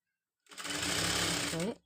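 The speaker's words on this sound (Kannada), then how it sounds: "ಸ್ಟಿಚ್ ಮಾಡ್ಕೊಳ್ತಾ ಹೋಗಬೇಕು ಇಷ್ಟಾದರೆ ಫ್ರಂಟ್ ಪಾರ್ಟ್ ಫೈನಲ್ ಆಯಿತು" A sewing machine stitching the front part of a katori blouse runs in one fast, loud continuous burst of about a second and a half, starting and stopping abruptly.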